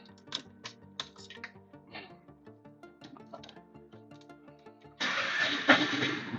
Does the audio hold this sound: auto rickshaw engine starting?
yes